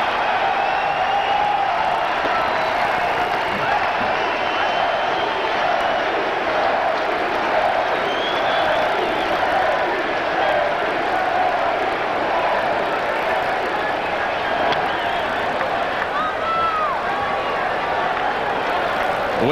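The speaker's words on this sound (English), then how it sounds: "The crowd wants the curtain call" A 1998 Chicago Cubs baseball stadium crowd calling for Sammy Sosa's curtain call after his home run, a steady, far-off roar of cheering and clapping that holds evenly throughout with no pause.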